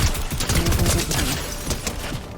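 Gunfire in the video game Fortnite comes as a quick, loud burst of rapid shots, close and crackling for a couple of seconds.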